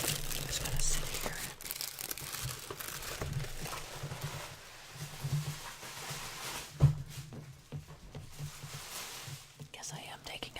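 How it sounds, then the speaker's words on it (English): Soft crinkling and rustling of tissue paper being pulled out and handled, filling the whole stretch, with a louder crackle in the first second or two and a sharp rustle near the middle, with whispered speech over the top. "it's tissue paper. Is what I have here."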